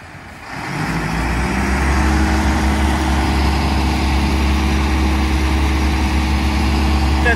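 A Coast Guard boat engine passing near an opening bridge on Curacao, a loud, steady low rumble that rises quickly in the first second and then holds a constant drone, with no talking.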